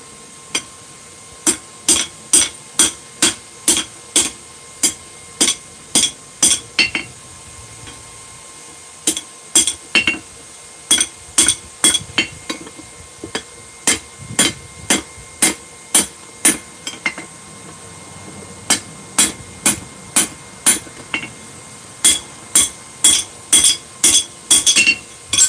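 A hammer strikes a steel wrench repeatedly to break its edges off for a tomahawk, sharp ringing metallic blows in quick bursts of several hits separated by short pauses, close and loud, with no talking.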